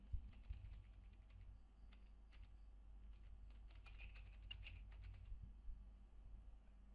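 A cardholder name being typed on a computer keyboard while paying a BSNL telephone bill online, soft irregular key taps close by over a low background hum.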